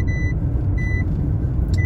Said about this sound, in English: it's telling me all the doors are open. They're just not. And it's gonna do that beeping for an 8-hour shift